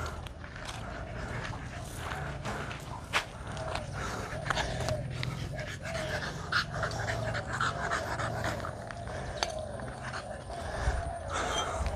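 A dog pants rapidly and steadily up close, with occasional clicks and small bumps in the background.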